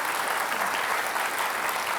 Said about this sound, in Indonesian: Kita beri tepuk tangan untuk Pak Basuki Cahayapurnama.